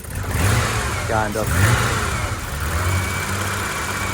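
A BMW 635 CSi engine with rough fuel delivery and a poor idle runs close by, settling into an uneven idle between a couple of short revs, with someone talking over it.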